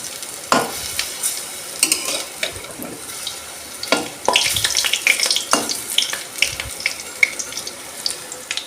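Besan pakoras fry in oil with a soft bubbling sizzle under repeated sharp clinks and scrapes of a utensil, plus splashy watery bursts, all close by and without speech.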